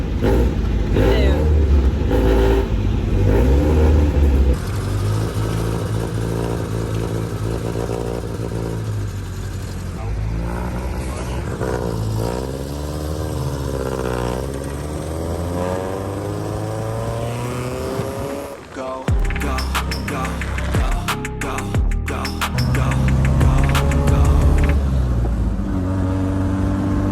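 An MG Midget sports car is driven, its engine droning and rising and falling in pitch through gear changes and revs, with people talking over the steady road and engine noise throughout.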